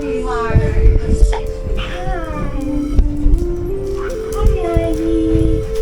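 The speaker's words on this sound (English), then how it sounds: "You look like the dog from Call of the Wild." A dog whimpers, whines and yips in rising and falling cries close by, with a few short barks, while someone speaks to it affectionately over the sounds.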